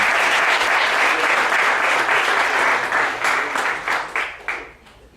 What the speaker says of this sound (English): So applause to them.